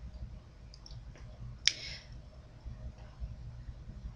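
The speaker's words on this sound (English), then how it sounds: "So I'm going to double click to add an image." A computer mouse gives one sharp, close click against a quiet background hum, with a couple of fainter taps around it.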